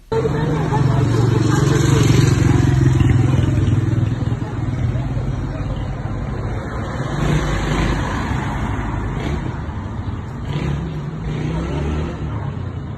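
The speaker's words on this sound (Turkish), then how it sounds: "sokağın trafiğe kapatılmaması nedeniyle yaşanan gürültü" Constant roar of passing cars and motorbikes on a busy street left open to traffic during an exam, loud and close, with a murmur of crowd voices and car horns underneath.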